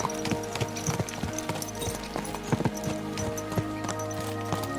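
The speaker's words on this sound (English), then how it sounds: "Let's really spur these horses on, eh?" Horses' hooves clip-clop at a steady trot in Kingdom Come Deliverance 2, a brisk, even rhythm of sharp knocks close by over a constant low rumble of movement.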